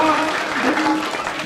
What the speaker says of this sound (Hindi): जोर से ताली बजा दो हमारे वीरेंद्र भाई के संरक्षण में।